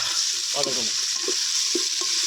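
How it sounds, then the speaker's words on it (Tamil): Meat coated in ginger garlic paste sautés in a pan, giving a continuous close sizzle with a few scraping stir sounds, and no speech. "சரி, இப்போ வதக்கணும்."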